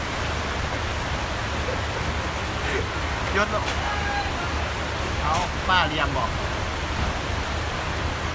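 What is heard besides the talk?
rain falling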